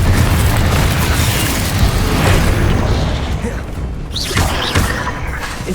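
A Confringo spell blast in Hogwarts Legacy, a loud, dense explosive roar that fills the scene and rumbles on for several seconds, with a fresh burst near the end amid ongoing combat noise.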